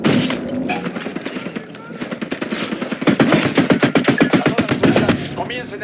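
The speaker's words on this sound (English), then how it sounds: "Opening fire on these fuckers." Automatic gunfire in Ghost Recon Wildlands as a squad opens fire, loud rapid bursts that grow denser and heavier midway, rattling on with a faint voice underneath.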